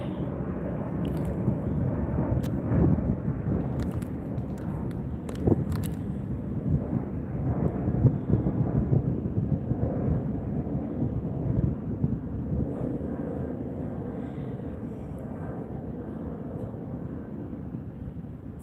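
Big jet airliners roll out for takeoff at LAX, watched from a beach close-up. A steady low roar fills the whole stretch at a distance, mixed with wind buffeting on the microphone and a few short knocks.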